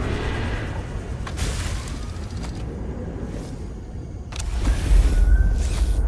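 The sea truck vehicle from the video game Subnautica: Below Zero gives a steady low hum with occasional whooshing swells, then a heavier rumble builds toward the end.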